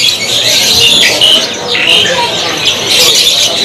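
Canaries for sale at a bird kiosk sing continuously in a dense chorus of bright, overlapping chirps and trills that stay loud and close throughout.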